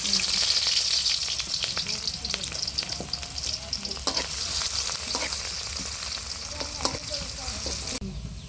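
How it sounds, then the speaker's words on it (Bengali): Chopped onions fry in hot oil in a wok over a clay village stove, a loud, dense, steady sizzle with occasional sharp crackles and stirring scrapes throughout. "তেল গরম হয়ে গেছে। এখন পেঁয়াজ কুচি দিয়ে দিব।"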